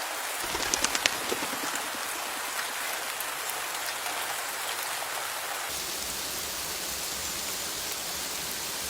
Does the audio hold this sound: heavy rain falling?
yes